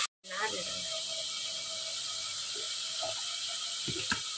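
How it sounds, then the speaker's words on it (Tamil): Chicken biryani ingredients sautéing in a pan, a steady hiss of sizzling oil running throughout after a brief gap at the start, with a few soft utensil clinks near the end. "இப்போ போட்டு நல்லா வதக்கிடும் அந்த பச்சை வாடை போடுற வரைக்கும்"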